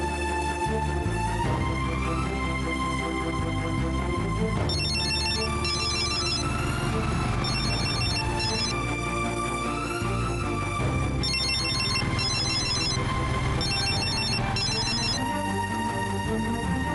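A telephone ringtone plays as a looping melodic electronic tune with bright repeating chime patterns, steady and loud with no talking over it.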